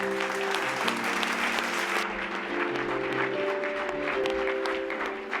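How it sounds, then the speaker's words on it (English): An audience at a comedy night event applauds, dense steady clapping over a constant low hum of background music or amplified tone, continuing for the whole five seconds. "So please, a big round of applause for Julia"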